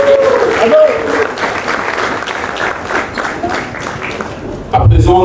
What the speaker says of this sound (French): je vous appelle à l'encourager par des applaudissements